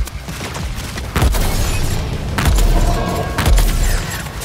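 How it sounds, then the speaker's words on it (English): Deep booming bursts of cover fire in the video game Suicide Squad: Kill the Justice League, three heavy blasts over a dense, noisy game soundscape. "Someone like Deadshot can take a vantage point and provide cover fire"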